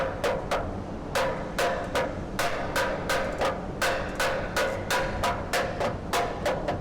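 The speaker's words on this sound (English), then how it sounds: "You can get a soft mallet, because obviously once it gets in place it will be loose." Soft mallet tapping a part into a car's wheel arch, a steady run of sharp, evenly spaced knocks over low background noise.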